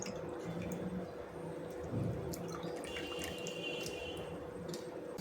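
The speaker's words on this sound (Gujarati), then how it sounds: "હવે આપણે એને બધું પાણી કાઢી લઈશું।" Water drains and drips from salted chopped bitter gourd, a soft, close trickle with scattered wet drips and squishes running throughout, fairly quiet and without talk.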